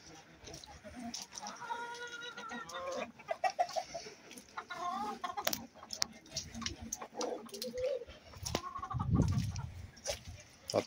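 Chickens cluck and a rooster calls among farmyard animal noises, with scattered rustling and thumps nearby; a goat-like bleat blends into the mix.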